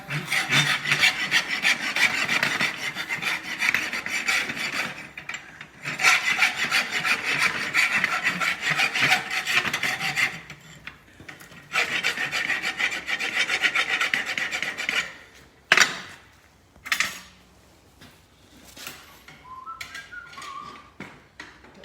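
A farrier's rasp files a horse hoof being shaped for an egg bar shoe, sounding as long, steady rasping strokes in close, loud bursts that grow shorter and more broken toward the end.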